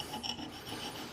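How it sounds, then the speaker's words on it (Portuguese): A round file drawn along a chamfered wooden edge, giving a soft, steady rasping scrape that is faint and close, without any voices. "Pega a lima roliça e vem trabalhando com ela agora nesse sentido, no sentido acompanhando o chanfro e o desenho."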